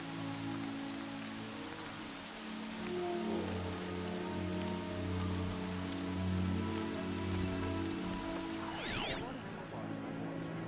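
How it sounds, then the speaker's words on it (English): Steady rain falls across a video game landscape, a continuous close patter on surfaces with a low ambient drone underneath and a brief sweeping swoosh near the end. "Rain's not so bad."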